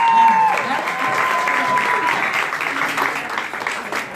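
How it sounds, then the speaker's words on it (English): Audience applause at a live talk-show launch event fills the room with steady, dense clapping from start to finish, mixed with a few raised voices and cheers. "Can you please have a round of applause? A big one though"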